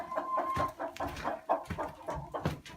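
Several chickens cluck close by in a busy, overlapping chorus of short, choppy calls, with no talking.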